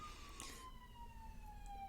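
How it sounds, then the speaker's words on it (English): A faint siren wails in the distance, a steady descending tone drifting over low background rumble. "the ambulance, the police, or whatever in the background."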